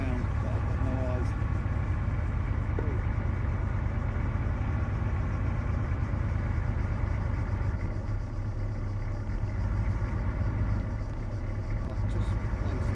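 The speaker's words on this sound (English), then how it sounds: "I think I hear an engine. Yeah, the tank was trying to hunt us down" A tank engine in an online shooter video game rumbles steadily in the background throughout, a low continuous idling drone with players talking over it.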